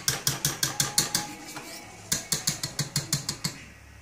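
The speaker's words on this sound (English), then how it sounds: "Shake off the ingredients from the whisk." A whisk is knocked against a bowl to shake off creamy cake batter made with flour and butter. It gives two quick runs of sharp, evenly spaced metallic clinks with a short pause between them, close and alone.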